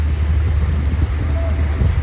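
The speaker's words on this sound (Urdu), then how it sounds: "بہت ہی زبردست بارش ہو رہی ہے پنڈی میں آج" Heavy rain falls in Rawalpindi, a steady dense wash with low rumbling, loud and continuous throughout with no pauses.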